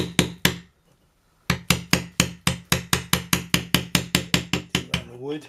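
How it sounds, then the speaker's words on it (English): A hammer drives a proper chisel into wood while digging out a light pendant fitting during a short-circuit repair: about fifteen sharp, evenly paced strikes, loud and close, after two early blows and a short pause. "So it feels a lot better already using a proper chisel."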